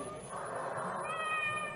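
In an old-time radio mystery drama, a cat's meow is played as a sound effect, a drawn-out tonal cry heard over a dense, steady background of music and noise.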